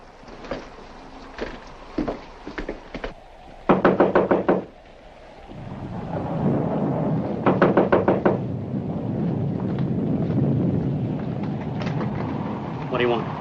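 Knocking on a front door in a 1943 film scene: scattered single raps, then a loud rapid burst of knocks, followed by more insistent knocking over a rumbling, stormy background.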